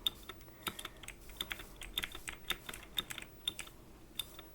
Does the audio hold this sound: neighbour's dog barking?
no